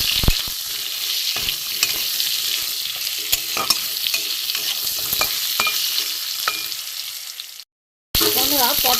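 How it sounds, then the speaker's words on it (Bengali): Pointed gourd fries in a pan of oil with salt and turmeric, a continuous close sizzle broken by sharp clicks and scrapes of stirring, then a short silent gap before the frying resumes. "একটু নুন দিয়ে দিলাম, একটু হলুদও দিয়ে দিলাম, দিয়ে আমি এটা সুন্দর করে ভেজে নেবো"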